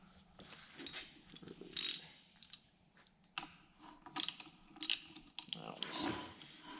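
Quiet ratchet clicks come in short bursts as bolts are tightened on the front suspension of a 1969 Opel GT, close by, with faint speech in the background.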